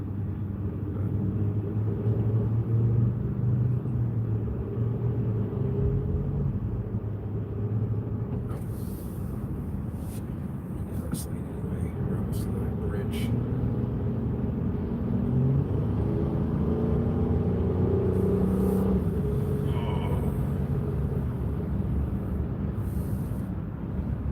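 A truck with aftermarket parts drives past on a stormy day, a broad steady engine rumble holding close throughout with brief bright rattles and clanks over it.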